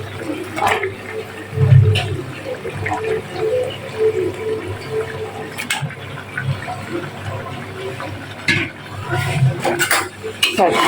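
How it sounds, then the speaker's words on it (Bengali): Meat goes into a pot of potatoes cooking in spiced gravy, with metal clinks of a spoon against the pot, a couple of soft thuds and wet shuffling, while a voice talks now and then. "মাংসটা দেবো মাংসটা দিয়ে দিই"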